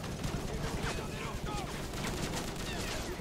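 Continuous heavy gunfire in Call of Duty: Modern Warfare 3, a dense, loud fusillade of overlapping shots and bursts that fills the whole stretch, with a voice briefly speaking under the barrage.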